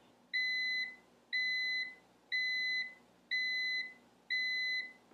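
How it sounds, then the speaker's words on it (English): Five evenly spaced electronic beeps from a Cuisinart Coffee Center 2-in-1 coffeemaker when the carafe side finishes brewing, each about half a second long, sounding clearly over a quiet background hum. "You'll hear the five beeps whenever the carafe side is finished brewing."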